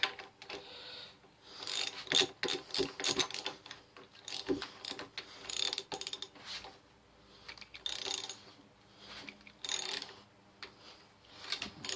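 Ratcheting and metallic clicking while a 12 mm by 100 bolt is tightened on a home-made riser for a Honda Shadow motorcycle, with irregular bursts of quick clicks and clanks, close and fairly quiet, with no talk.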